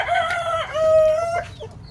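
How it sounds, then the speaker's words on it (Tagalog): Chickens and a rooster in a Filipino backyard flock, with overlapping clucks and a close, loud crow that rises and holds a long, steady note before fading, no talking. "Yan yung manok natin rito."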